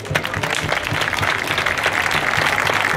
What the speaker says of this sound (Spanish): este aplauso nuestro para vosotros